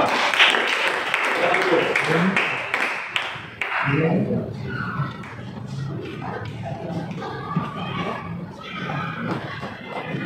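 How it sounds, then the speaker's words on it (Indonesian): Students in a computer networking class clapping briefly, a short burst of hands for about four seconds that gives way to people talking over scattered movement. "Tepuk tangan, oke?"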